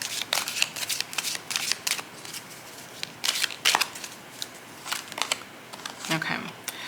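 Tarot cards shuffled and handled for a reading, with a run of crisp papery riffles and snaps in bursts, close and fairly quiet, alone without talk.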